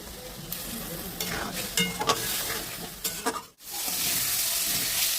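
Green chili, ginger and garlic paste frying in a pan for a prawn curry, with a strong continuous sizzle and several scraping stirs, a brief drop to near silence midway, then the loud hiss resumes.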